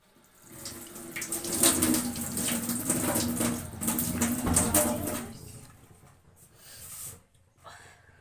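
Warm water runs steadily from a tap during evening face washing, a continuous close splashing rush that fades and stops near the end.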